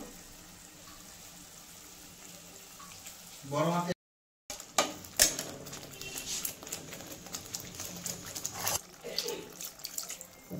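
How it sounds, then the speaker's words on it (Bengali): Water is poured into a cooking pan while an egg korma is being made, a short splashing pour followed by sizzling and clinks of a utensil in the pan. "জল দিয়ে দিলাম একটু"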